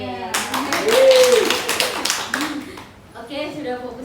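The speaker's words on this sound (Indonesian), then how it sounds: "Tepuk tangan sendiri" A small group claps hands together in a short burst of overlapping claps during a group guidance session, with a voice speaking over and around the clapping.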